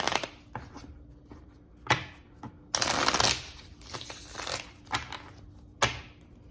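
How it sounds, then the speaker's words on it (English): Tarot cards are shuffled by hand in a run of sharp riffles and slaps, close and crisp, with a longer rustling burst in the middle and brief pauses between. "I'm going to pull a card"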